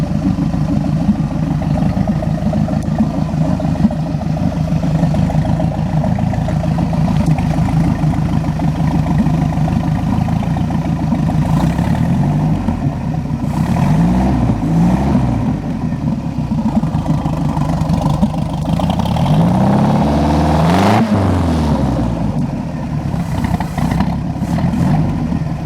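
Mercruiser 3.0 Alpha I 140 HP marine engine running on a pallet, a steady close idle rumble that climbs into several sharp revs up to wide open throttle and drops back, with no misfires.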